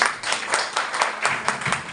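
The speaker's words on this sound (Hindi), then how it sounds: "इनके लिए तालियां बजा दीजिए।" An audience at a training session applauds steadily, with many hands clapping in a dense, continuous patter and no talk over it.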